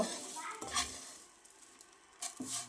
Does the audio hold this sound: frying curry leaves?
yes